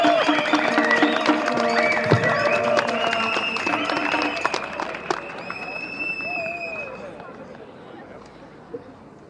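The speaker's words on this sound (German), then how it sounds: "Großen Applaus" Crowd applause and cheering at a street rally in Mannheim, loud and dense at first, then thinning and fading over several seconds, with voices and a whistle mixed in.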